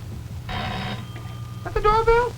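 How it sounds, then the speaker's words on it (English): An old telephone bell rings in a 1951 television puppet-show scene, one short burst near the start followed by another, with a low hum underneath and a voice breaking in at the end. "The phone, Coop."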